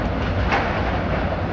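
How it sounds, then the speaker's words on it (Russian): A container freight train rolls past at steady volume, a continuous broad rumble and rushing roar with no voices. "Контейнерный состав."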